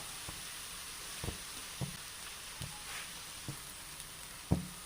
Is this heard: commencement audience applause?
no